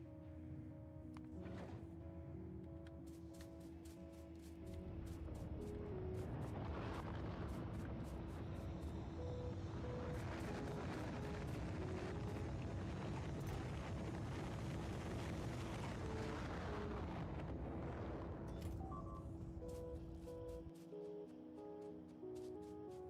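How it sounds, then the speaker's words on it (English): Back-to-back rocket launches in the game Factorio Space Age, a loud sustained roaring rumble that swells and fades over about twenty seconds, layered with steady tonal hums and machinery tones. "Well, back-to-back rockets."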